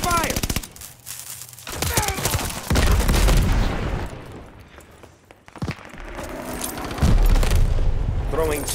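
Call of Duty: Vanguard gameplay erupts in loud, close bursts of automatic gunfire and heavy booming shots, rapid rattling volleys separated by short pauses.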